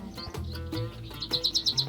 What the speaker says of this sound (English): Big blue jay birds around here.